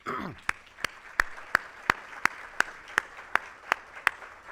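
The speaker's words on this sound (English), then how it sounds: "Would you stand up and let's give him a round of applause." Sparse, evenly paced claps ring out at a business expo economic outlook keynote, honoring a bank's regional president. Roughly a dozen crisp, separate hand claps fall at a steady beat over a faint room background.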